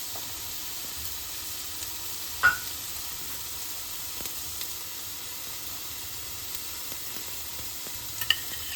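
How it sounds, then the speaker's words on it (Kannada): Onions frying in butter for pav bhaji make a faint, even sizzle with a few light clinks of stirring now and then. No one speaks. "ಚೆನ್ನಾಗಿ ಫ್ರೈ ಮಾಡ್ಕೊಬೇಕು. ಈರುಳ್ಳಿ, ಬಟರು"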